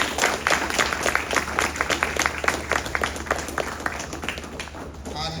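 Applause from a concert audience after a Carnatic vocal performance, a dense, steady patter of many hands clapping that carries on for several seconds and then tapers off near the end.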